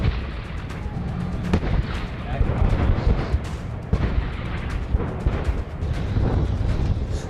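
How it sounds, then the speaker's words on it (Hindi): Pakistani army tanks and artillery fire during a demonstration at Bahawalpur, producing a continuous loud barrage of booms and blasts with no clear gaps between them. "पाकिस्तानी सेना के टैंक, तोप और एयर डिफेंस सिस्टम ने अपनी ताकत का प्रदर्शन किया"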